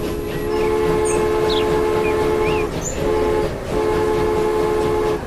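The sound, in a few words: train running in the video game Transport Fever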